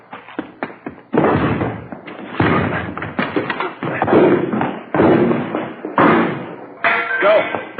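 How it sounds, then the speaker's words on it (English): Police kick and batter at a house door in an old radio police drama, a series of loud, heavy thuds and knocks in irregular bursts, ending in a crash. "Hit the door."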